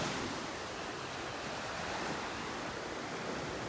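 Small ocean waves wash onto a beach in North Naples, Florida, a loud, continuous roar of surf mixed with wind rumble on the microphone, steady throughout with no voices.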